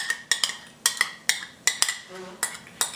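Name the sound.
mixing chickpea flour batter with yogurt in a bowl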